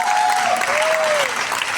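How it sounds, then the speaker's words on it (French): Festival crowd applause at a twentieth-anniversary show, continuous and full, with a faint whistle-like tone gliding over the clapping. "on applaudit, on applaudit, on applaudit."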